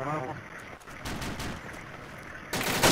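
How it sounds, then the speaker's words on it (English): Heavy gunfire in ArmA 2 Operation Arrowhead, a burst of rapid loud shots that flares sharply at the end, with a voice speaking alongside. "Very heavy fire."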